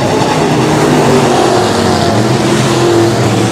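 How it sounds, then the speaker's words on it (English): USRA B-Modified race cars in a heat race at Rapid Speedway, engines roaring loud and continuous with a dense, steady snarl and no voices. "Second of three heat races for the USRA B-Modifieds here tonight."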